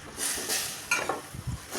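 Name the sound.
banana flower and potato being stirred and frying in pan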